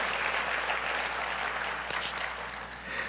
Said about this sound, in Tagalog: And then pumalakpak tayong minsan pang muli.